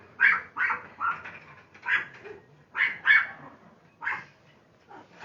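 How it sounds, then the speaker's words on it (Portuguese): Several small dogs bark excitedly near a playing child, with a series of sharp, separate yaps at an uneven rhythm and short quiet gaps between them. "E daí os cachorrinhos ficam enlouquecidos."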